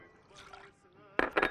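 Onion water poured into a marinade in a kitchen, a soft liquid trickle followed by a brief louder splashing burst near the end, close by and short.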